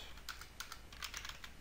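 Quick, quiet typing on a computer keyboard: a rapid run of light key clicks in irregular bursts for under two seconds, close and alone.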